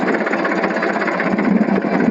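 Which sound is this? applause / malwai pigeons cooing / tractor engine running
tractor engine running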